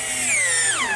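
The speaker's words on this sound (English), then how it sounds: "I'm using screws, being sure to pre-drill some holes." Power drill pre-drilling screw holes in oak, a loud continuous motor whine that steadily drops in pitch as the bit bites into the wood, heard alone at close range.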